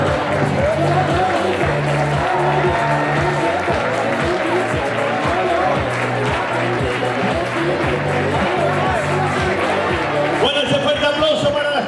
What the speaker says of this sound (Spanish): aplauso para la Escuela Deportiva de Montegordo